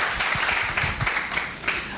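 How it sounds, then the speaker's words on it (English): An audience at a film festival talk with a Smithsonian curator on Black style and culture gives the speaker a short round of applause, a brief wash of steady clapping. "let's give him a round of applause"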